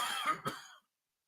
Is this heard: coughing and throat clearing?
yes